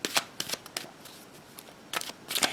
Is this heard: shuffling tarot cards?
yes